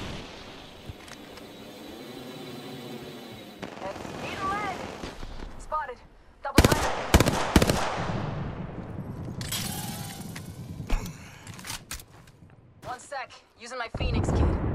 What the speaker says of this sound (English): We're shooting. They're shooting at me.